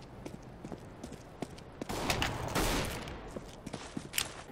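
Gunfire in a video game comes as scattered sharp shots and a louder dense burst in the middle, fairly distant and quiet overall.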